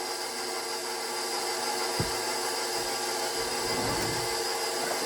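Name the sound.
electric mixer mixing bread dough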